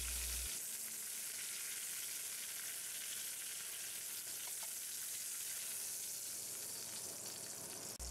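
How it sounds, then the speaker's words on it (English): Eye of round roast beef sears in a hot pan, a steady loud sizzle and crackle of frying filling the whole stretch with no talking. "We only need to sear the roast for about a minute because it's already cooked."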